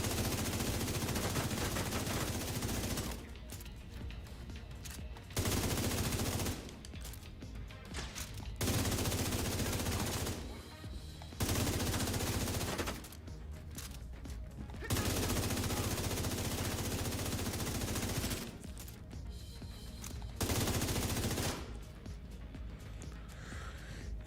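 Sustained bursts of automatic gunfire in The Division 2 during PvE combat, loud broadband volleys lasting a few seconds each, separated by short lulls, with occasional voice in between.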